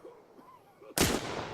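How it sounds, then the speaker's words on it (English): Grenade blast in a video game, a sudden loud burst with a rumbling tail after a quiet moment of faint game sounds, heard once near the end. "stun grenades, frag grenades"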